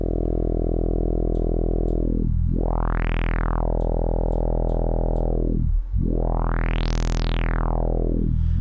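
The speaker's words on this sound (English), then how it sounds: "So it's just going to give it a bit more sort of a rough distortion." A resonant synth tone from a Bitwig Polysynth with heavy feedback distortion, its filter sweeping down and then up in two big swooping arcs, loud and sustained with no talk.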